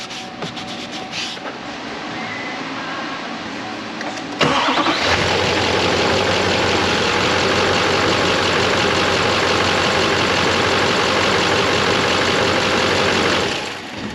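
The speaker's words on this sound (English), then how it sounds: "Restarting the engine." A 6.6 Duramax diesel engine in a Silverado, after an oil filter conversion, cranks briefly and then fires up at about four seconds. It settles into a loud, steady, close idle that drops off near the end, with no talking.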